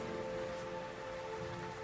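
Heavy rain pours outside in a steady, unbroken hiss, soft and even throughout, with a faint low hum running beneath it.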